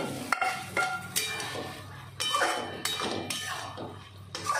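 Okra goes into a pan with ghee and oil, followed by close scraping and clattering from a spatula against the pan at a steady stirring rhythm over a soft sizzle, with no talk.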